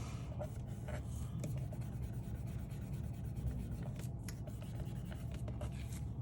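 Steady close rubbing and scuffing on a floral craft journal page, a continuous dry friction texture with small brushing strokes throughout and no talking.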